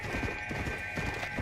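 Steady clip-clop of horse hooves trotting at a quick, even rhythm in Red Dead Redemption: Undead Nightmare, close and continuous over a droning game soundtrack.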